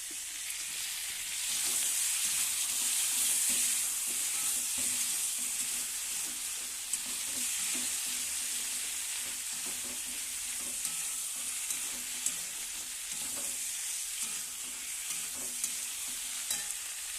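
Food frying and being stirred in hot oil, a steady bright sizzle running throughout with occasional soft scrapes of the spoon, close and fairly loud, with no talking.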